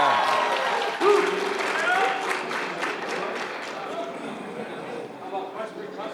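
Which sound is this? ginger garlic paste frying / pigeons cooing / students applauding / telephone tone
students applauding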